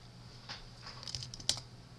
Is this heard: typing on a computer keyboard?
yes